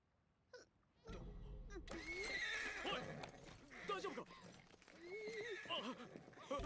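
In the anime Spice and Wolf, after a brief quiet start, a horse neighs loudly in long, wavering whinnies, with snorts and hoof clops in between.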